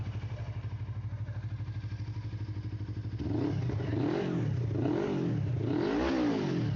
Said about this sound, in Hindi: ज़रा से एग्जॉस्ट का साउंड सुनाए